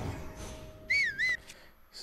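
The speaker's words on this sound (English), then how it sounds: "Stop whistling." A person whistles a short two-note rising-falling phrase, clear and fairly close, then a faint third note, over quiet background hum.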